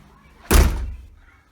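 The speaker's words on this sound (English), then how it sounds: "That's that door." A door in a house slams shut with a single heavy thunk, loud and close, followed by a short decaying rumble and then quiet.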